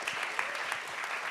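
Brief, moderately quiet applause from an audience at a film and food panel during Sundance, a steady patter of clapping hands with no voices.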